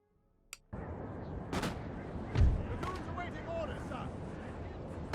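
Cannon artillery fires in a Napoleon: Total War battle, with a sharp crack followed by a dense wash of battlefield noise and a deep booming thump midway, all sustained and fairly loud.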